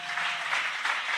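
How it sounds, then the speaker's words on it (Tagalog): Church congregation clapping together during a preaching service, a brief burst of many hands applauding at steady volume for just over a second. "Yung mga nag-amen, pumalakpak nga sa mahal na Panginoon."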